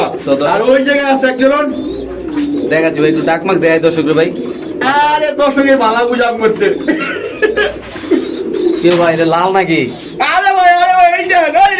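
Pigeons cooing at a market stall, soft rolling coos mixed with steady overlapping talk from vendors and buyers, close and fairly loud throughout.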